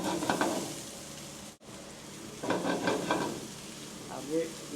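Garlic and curry leaves sizzle and spatter in hot oil for chicken sukha, a steady crackling hiss broken by a brief pause and scraping stirs.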